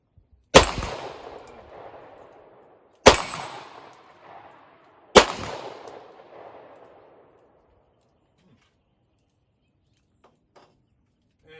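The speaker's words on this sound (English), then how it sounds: "And 10 rounds through the CZ-75." A CZ-75B pistol fired three times outdoors, each sharp, loud report a couple of seconds apart and trailing a long fading echo, followed by several seconds of near silence.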